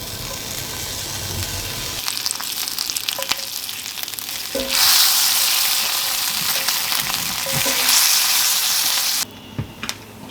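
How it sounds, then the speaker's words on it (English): A slice of bacon fries in a pan with a loud, steady crackling sizzle that swells partway through and drops off near the end. "I'm actually gonna slice off a little bit of this with a knife and throw it in a pan and fry it up."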